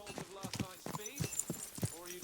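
Horse hooves clip-clopping at a walk in the medieval game Kingdom Come Deliverance 2, a soft rhythmic patter under a voice talking.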